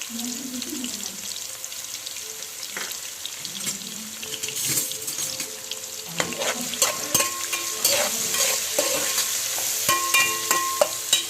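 Onions fry in oil with turmeric for a raw prawn and gongura curry, a steady sizzle with repeated spatula scrapes and clinks against the pan, growing busier toward the end, with a few faint background voices.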